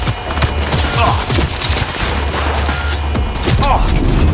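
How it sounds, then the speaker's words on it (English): Dense automatic gunfire in the video game Cyberpunk 2077, continuous loud rattling bursts with heavy thumps, close and overwhelming, with a voice shouting over the shooting. "I am taking fire!"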